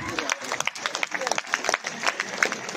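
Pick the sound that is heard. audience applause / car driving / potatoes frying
audience applause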